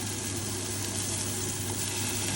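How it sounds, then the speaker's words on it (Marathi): Shami kebabs sizzle steadily in hot oil in a home kitchen, a dense, continuous frying hiss with no pauses and no voices. "मी जो आहे तो शामी कबाब जो आहे तो फ्राय करता आहे"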